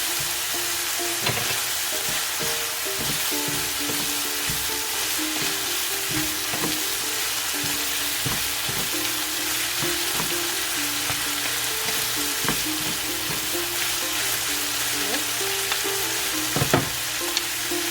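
Beef empanada filling with oyster sauce and bouillon powder sizzling steadily as it is stirred in a hot pan, a continuous close fry hiss broken by scraping and stirring knocks, with no talk.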